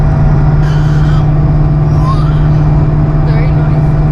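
Steady, loud drivetrain drone from a Terminator Cobra's transmission, a constant low hum inside the cabin with engine and road noise, holding even for about four seconds.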